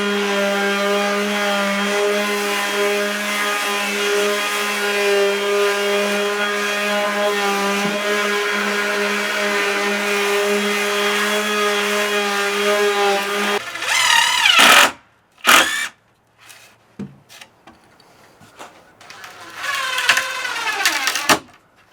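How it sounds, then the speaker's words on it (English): A power saw cuts through a reclaimed lumber board, a loud sustained whine that drops off abruptly, then sputters, clunks and brief rattles follow as the board comes free. "Alright, I just cut this board down."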